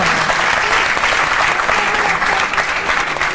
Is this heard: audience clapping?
yes